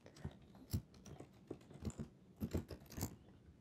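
Keys clacking on a computer keyboard as text is typed, in short irregular bursts of close, crisp taps with brief pauses between.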